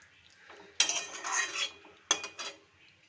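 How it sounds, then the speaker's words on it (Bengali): A metal lid goes onto a cooking pan while a Bengali chicken dish is being made, giving two sharp metallic clanks with ringing rattles after each, close by and with no talking. "এবার ঢাকাটা দিয়ে ঢেকে দেবো।"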